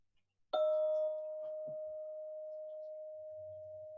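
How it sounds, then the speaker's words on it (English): A meditation bell is struck once and rings out with a clear, sustained tone that fades slowly, alone in a quiet room during a guided meditation session. "I'm going to tap the bell."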